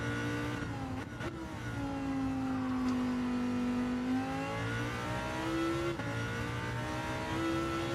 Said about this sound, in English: this Lambo does not like to be redlined. I rev too much.